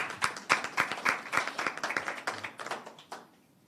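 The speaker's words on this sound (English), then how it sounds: "Now, yes, you can clap." A small audience claps at a press conference, scattered, fairly quiet handclaps with distinct individual hits that thin out and fade away toward the end.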